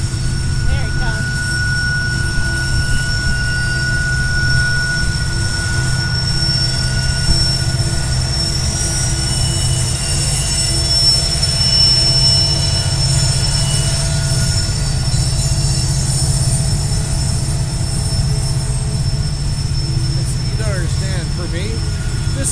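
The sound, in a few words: freight train locomotive passing on Horseshoe Curve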